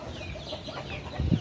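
Joloano breed chickens cluck softly and intermittently while feeding, close by, with a slightly louder cluck near the end.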